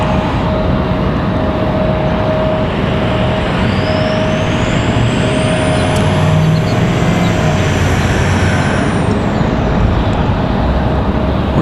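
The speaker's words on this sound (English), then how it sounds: "Where is that truck I'm hearing?" A truck drives past near an airport, heard as a loud, steady rumble of traffic noise with a steady whine and a rising then falling pitch sweep from a passing vehicle, continuous for about twelve seconds with no voices.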